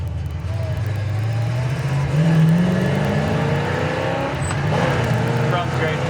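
A 1972 Chevrolet Nova Super Sport engine runs loud and close, its pitch rising as it accelerates and then holding at a steady drone, with talk faintly present underneath.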